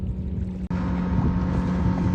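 A motorboat engine drones steadily on the open sea near a dam, a close, loud low rumble with wind noise and a brief dropout early on, no talking.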